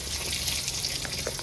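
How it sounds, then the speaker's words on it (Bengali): Eggs frying in hot oil in a village-style kitchen, a steady close hiss and crackle of sizzling with no pauses. "বন্ধুরা এই তেলে আমি ডিমটাও ভেজে নেবো।"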